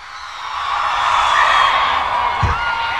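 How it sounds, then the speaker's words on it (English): Fans cheer and whoop at the Berlin premiere of The Lone Ranger as Johnny Depp arrives, a crowd roar swelling from moderate to loud with shrill shouts rising above it. "Please welcome a big round of applause, Mr. Johnny Depp."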